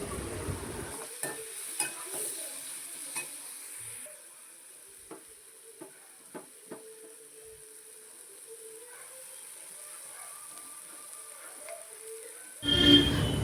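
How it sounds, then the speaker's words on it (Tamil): Ripe tomatoes sizzle and fry in a pan with scattered stirring clicks. The sizzle quiets in the middle and grows louder again near the end. "2 பழுத்த தக்காளியும் அதில் ஆட் பண்ணி நல்லா வதக்கணும்"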